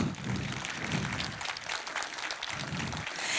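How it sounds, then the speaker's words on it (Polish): Audience applause for a young preschool theatre group at a municipal culture centre, a fairly soft, continuous spatter of clapping with low murmuring voices rising underneath at moments. "wielkie brawa dla młodych artystów"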